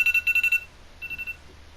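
A timer alarm sounds a rapid run of short electronic beeps, then goes quiet, then gives a second shorter burst of beeps, clear and close against a faint background hum.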